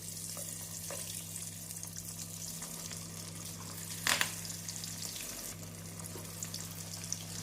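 Soybean vadas deep-fry in hot oil. A soft, even bubbling hiss sits under a steady low hum, with a brief sharper splash near the middle and occasional faint clinks. It is quiet and close, with no voices.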